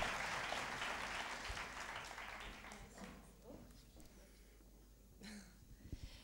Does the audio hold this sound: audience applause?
yes